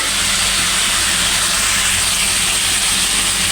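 Garam masala spices sizzling in a hot cooking pot, a steady loud hiss that fills the whole moment without a break.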